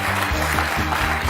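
Studio audience on a Georgian comedy game show clapping loudly in a dense, continuous burst, with rhythmic beats or music audible beneath the applause.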